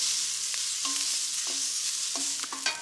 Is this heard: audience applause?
no